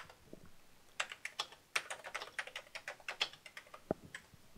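Quick, irregular clicks of keys being typed on an Amiga 500 computer keyboard, close but quiet, in short bursts with brief pauses and no voices.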